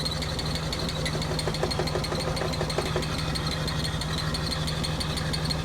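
An abandoned Nissan Skyline R34 with its engine idling, a steady low rumbling drone with a faint rapid ticking, constant and close throughout with no speech.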